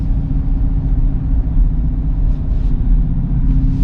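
A Chevrolet Corvette C8 with its transmission in manual mode gives off a steady, loud, low engine rumble from inside the car while driving, with no obvious revving peaks.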